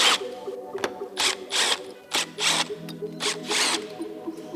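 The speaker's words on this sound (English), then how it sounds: "To remove these heat sinks, we've got 4 T20 screws." T20 screws being backed out of headlight heat sinks, heard as several close bursts of rapid ratcheting clicks separated by short pauses, with no talking.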